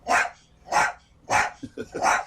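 Guard dogs bark outside a low-cost apartment, giving four or five loud, close, evenly spaced barks with a couple of short yips mixed in and no talking.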